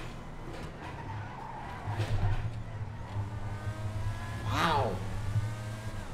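Deveste Eight supercar in GTA 5 skidding and revving hard on a lap, tires squealing amid a loud engine roar, with a short excited exclamation from a voice.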